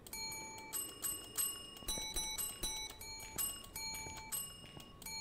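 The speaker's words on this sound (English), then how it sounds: "Can you hear the bell?" A small bell rings repeatedly in Phasmophobia, bright metallic dings coming in quick clusters at a fairly steady pace, moderately close and heard alone.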